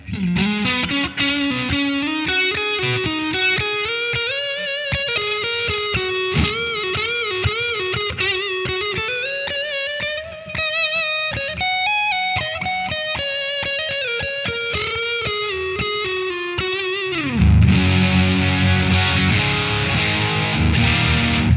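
Distorted electric guitar through the dirty amp model of a Mooer Preamp Model X, played as a continuous overdriven melodic line with sustained notes, then a thick chord strum near the end. Loud, close and with no talk.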